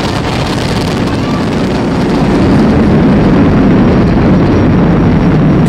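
A SpaceX Falcon 9 rocket carrying the Crew Dragon roars during launch as a dense, continuous rumble that is loud and steady, with wind buffeting the microphone.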